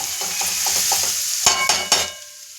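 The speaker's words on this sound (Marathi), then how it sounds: "एक छोटा साईज चमचा हळद ही छानपैकी परतून घेतली." Ground turmeric sautéing in a pan for Khandeshi-style roasted eggplant bharit: a continuous sizzle with stirring scrapes, ending in a few sharp spoon clanks against the pan before it quiets.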